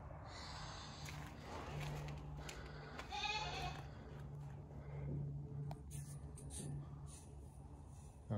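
A sheep or goat bleats faintly in the distance on a horse farm, a few brief wavering calls over steady outdoor background noise with a low hum.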